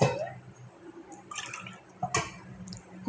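Water is poured into a pressure cooker already holding bottle gourd and lentils, coming as splashy trickles and separate drips with short pauses between them, close by and fairly quiet.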